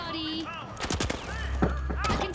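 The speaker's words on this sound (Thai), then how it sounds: "ป้อมปืนเรายิงอยู่อะ" Automatic turret in the shooter game THE FINALS fires in rapid close bursts of gunshots, mixed with other in-game weapon fire and effects, while a player's voice talks over the action.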